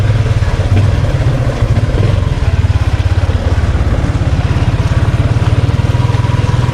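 A Bajaj NS200 and Yamaha Sniper 155 motorcycles ride together, a loud, steady mid-pitched engine drone with rapid firing pulses continuing throughout at close range.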